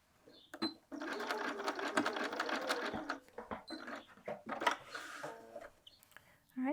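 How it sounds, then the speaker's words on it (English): A sewing machine stitching the body seam of a fabric town bag whirs close by in a sustained run, then in shorter bursts with pauses, a soft voice now and then. "here you can see the notch, and we stopped sewing right there"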